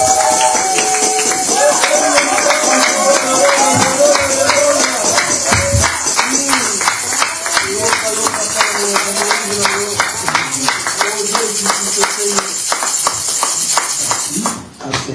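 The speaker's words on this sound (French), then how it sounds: "nous acclamons très fort." A church congregation in Germany applauds loudly and steadily for the whole stretch, with dense, continuous clapping mixed with cheers, voices and music underneath, thinning out abruptly at the very end.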